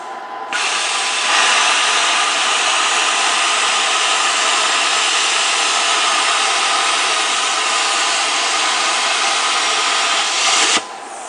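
A Cutmaster 60i plasma cutter makes a bevel cut through 1/2 inch metal, giving a loud, steady hissing roar that starts abruptly, holds evenly for about ten seconds, then cuts off sharply, with no voices.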